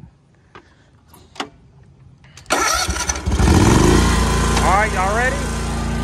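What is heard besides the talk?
ride-on lawn mower engine starting and running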